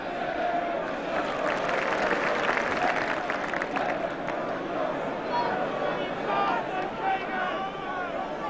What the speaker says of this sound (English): Tottenham go away to great applause